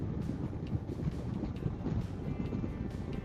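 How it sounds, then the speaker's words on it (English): Wind buffets the microphone outdoors on a long-distance motorcycle trip, a steady low rumbling roar with gusty swells and no speech. "it's a little bit windy"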